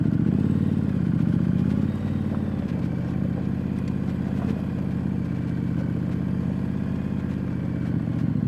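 A Street Scrambler motorcycle rides off road over loose flint, its engine droning steadily and loud throughout, with low rumble and faint clatter from the rough ground.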